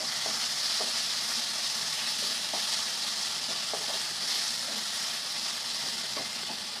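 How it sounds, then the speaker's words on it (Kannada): Ginger garlic paste frying in a hot pan for a chicken gravy masala gives a steady, close sizzle with faint stirring clicks throughout. "ಇವಾಗ ಶುಂಠಿ ಬೆಳ್ಳುಳ್ಳಿ ಪೇಸ್ಟ್ ಹಾಕ್ಕೊಳ್ಳೋಣ. ಇದು ಸ್ವಲ್ಪ ಹಸಿ ಸ್ಮೆಲ್ ಹೋಗೋ ತನಕ ಸ್ವಲ್ಪ ಲೈಟಾಗಿ ಫ್ರೈ ಮಾಡ್ಕೊಳ್ಳೋಣ."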